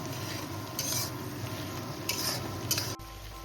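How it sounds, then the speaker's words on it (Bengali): Tomatoes and onions fry together in a pan for a mutton curry, with a steady close crackle broken by a few brighter bursts of stirring and scraping against the pan. "এবার টমেটোটা পেঁয়াজের সঙ্গে একটু ভেজে নেব।"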